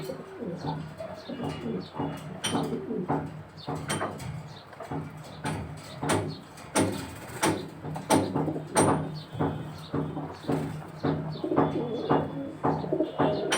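Homing racing pigeons coo repeatedly at close range, soft rhythmic throaty calls overlapping throughout with occasional faint knocks in the background.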